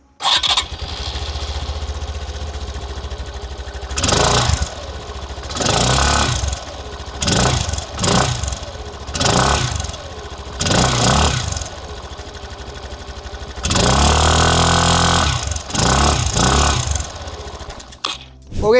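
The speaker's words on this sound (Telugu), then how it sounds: "ఈ స్కూటర్ ఎగ్జాస్ట్ నోట్ ఎలా ఉంటుందో ఒకసారి చూద్దాం మనం." A Suzuki Access 125 ABS scooter with Ride Connect edition starts and idles, its exhaust rising in several short, loud revs close by, with gaps of idle between them and no talk.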